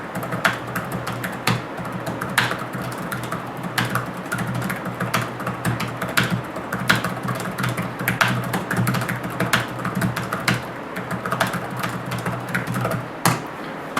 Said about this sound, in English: As usual, we'll start with a keyboard test.